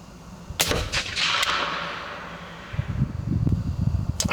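A single crisp shot from a 30-30 rifle fired at a 200-yard target, followed by a sharp crack and a long, fading outdoor echo. Faint rustling and handling noise come afterwards.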